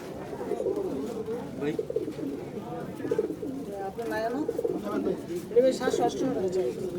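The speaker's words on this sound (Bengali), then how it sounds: "এই যে বন্ধুরা দেখছেন ভাইয়ের কবুতরগুলো, মাশাআল্লাহ কত সুন্দর কবুতর" Pigeons at a crowded pigeon market, with repeated soft throaty cooing close by under steady background chatter and people talking.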